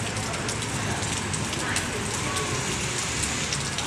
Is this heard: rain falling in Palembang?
yes